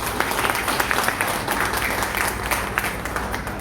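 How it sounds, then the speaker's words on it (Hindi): Steady, dense applause from an audience at a Lions Club gathering, many hands clapping together loudly and continuously, with no voices rising above it. "एक बार जोरदार तालियां।"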